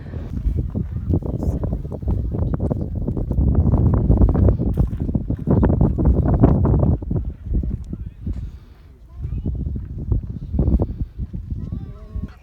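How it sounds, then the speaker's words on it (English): Strong wind buffets the microphone on an open hilltop summit in the Malvern Hills, a loud continuous roar rising and falling with gusts, with people talking over it. "You probably can't hear us because it's really windy."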